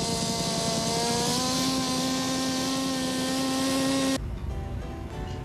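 Two Enya 53 two-stroke engines on an RC Grumman OV-1D Mohawk scale model with an 84-inch wingspan drone in a loud, steady, high-pitched whine that cuts off abruptly near the end, leaving quieter ambient noise.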